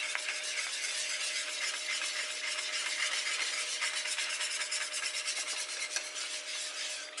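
A spoon stirs cheese sauce for meat-filled cannelloni in a pan, giving a steady, continuous scraping and rubbing sound throughout, close by, with no talking.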